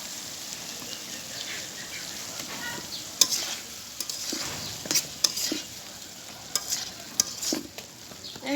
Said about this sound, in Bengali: এখন দিয়ে দেবো মাছ। মাছ দিয়ে ভালোভাবে কষায় নিব